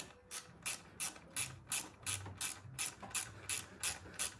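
A hand ratchet clicks in a steady rhythm of about a dozen sharp, close bursts, tightening a pulley tensioner bolt during an engine repair.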